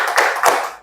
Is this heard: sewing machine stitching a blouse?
no